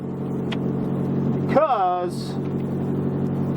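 A race car engine revs hard on a track, rising in pitch through one short, loud burst that ends abruptly, over a steady idle rumble, with a person speaking briefly.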